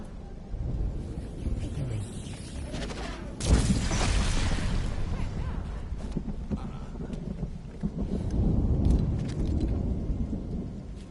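A storm in the Lego mode of the Fortnite video game brings rolling thunder over steady rain and wind, with one loud, sharp crack partway through and deeper rumbles swelling again toward the end.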